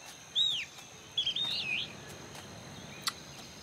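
Little birds chirp in the creature phase of the video game Spore, giving a few thin, high, sweeping calls in short bursts over a quiet background with a faint steady hum.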